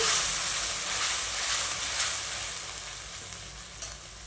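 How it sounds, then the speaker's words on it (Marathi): Ground green chili, garlic and ginger paste sautéing in a pan, a loud, dense, continuous sizzle heard up close, easing slightly toward the end, with no voices. "लसणाचं अद्रक, ते यात मिक्स करूया। आता याला छान परतून घेऊया।"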